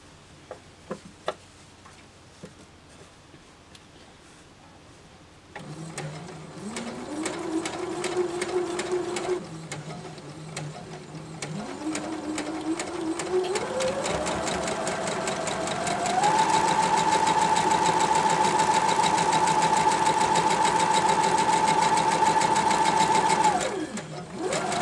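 Home sewing machine quilting geese-pattern blocks over seams in a quilt-as-you-go project, its steady mechanical whir running continuously and changing pitch and tone as the needle crosses seams, with a quieter pause partway through.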